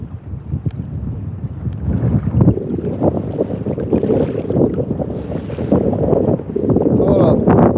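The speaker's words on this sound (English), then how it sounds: "This wind is brutal" Strong wind buffets the microphone on open water in the Rigolets during kayak fishing, a constant low roar with gusts and faint water slaps, loud and close throughout with no clear talk.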